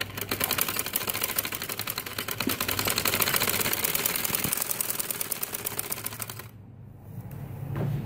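Domestic sewing machine stitching salwar trouser fabric, a fast steady mechanical chatter running close and loud, then stopping near the end, leaving only a softer hum.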